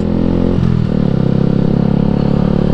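A Yamaha MT motorcycle engine rumbles loudly and steadily up close in traffic, its exhaust throbbing with a low, rapid pulse that shifts pitch slightly.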